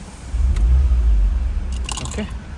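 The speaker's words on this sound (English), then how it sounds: "Start the engine." A Porsche Macan engine fires up during a Sport Plus retrofit installation, a low steady rumble rising close by with a brief clicking and rattling near the end.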